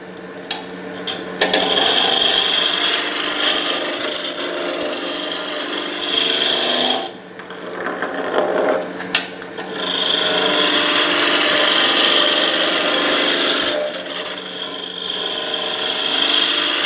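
Wooden tool handle spinning on a lathe, held in a chuck, with a loud, close gouge shaving in long continuous bursts broken by short pauses and a whirring motor.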